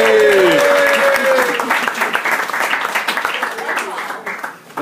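Audience applause fills a pub, steady clapping that is loud and dense at first, then thins and fades toward the end, with a voice heard briefly at the start.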